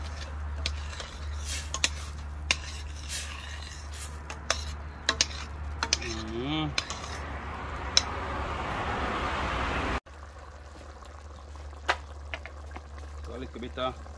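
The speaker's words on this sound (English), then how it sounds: "Give it a little stir up now." A cooking pot of fish with butter is stirred outdoors, the utensil clinking and scraping against the pot in irregular bursts over a steady low rumble, with voices nearby.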